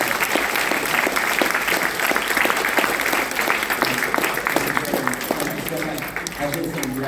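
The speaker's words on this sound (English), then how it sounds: "round of applause for these folks" Sustained applause from an audience at a stage hypnosis show, dense steady clapping filling the whole stretch with light crowd noise beneath.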